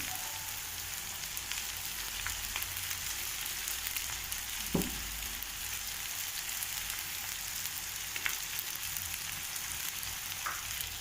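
Egg noodles frying in a pan while being stirred, a continuous hissing sizzle with a few faint scrapes and clicks of the spatula, steady and close with no talk.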